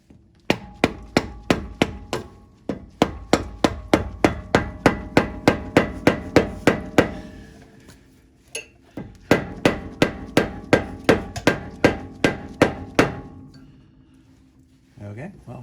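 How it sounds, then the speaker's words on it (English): A regular hammer strikes metal on metal against the drag link of a 2003 Jeep Wrangler TJ to knock it loose, landing long, fast runs of loud ringing blows with a brief pause between the runs. "I used a regular hammer with metal to metal, and that knocked it loose"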